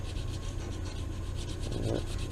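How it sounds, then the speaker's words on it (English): A thin split piece of straight-grained wood being sanded down to thickness for a net needle, a steady close scraping rasp that continues without a break and has no voices over it. "split off a thin piece and sand it down then to the right thickness"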